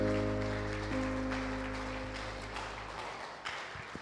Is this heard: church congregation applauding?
yes